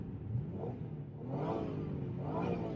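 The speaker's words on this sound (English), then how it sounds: "I like the exhaust pipes because it's quite noisy." A 2002 MG ZT-T V6 engine revs up twice in low rumbling surges through the exhaust, idling between bursts, fairly close.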